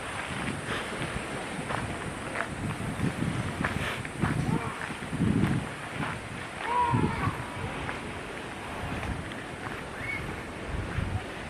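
Strong, chilly wind gusts across the microphone on an outdoor hiking trail of the Taipa Pequena circuit, a steady rumbling roar with louder surges, while people talk over it.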